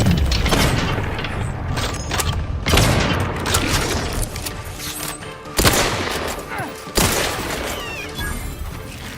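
Gunfire in The Outer Worlds 2 video game, loud bursts of rapid shots and heavy booms with sharp onsets, mixed with game effects and brief voice lines.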